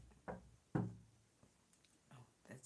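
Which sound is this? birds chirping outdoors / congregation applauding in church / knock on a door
knock on a door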